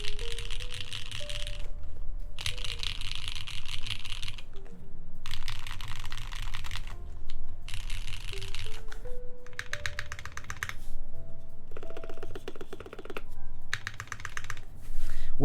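Typing on a mechanical keyboard with Cherry MX switches, a dense run of clacking keystrokes in bursts with brief pauses, close and fairly loud, with low background hum and faint voices underneath.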